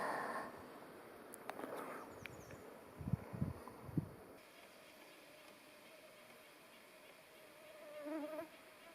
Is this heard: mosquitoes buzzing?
yes